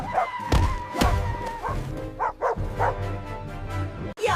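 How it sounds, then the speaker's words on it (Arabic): A dog lets out a few sharp barks and yips up close, with whimpering, thumps and scuffling between them. "يا نهار ابيض، الكلب ده هيفطر بيا."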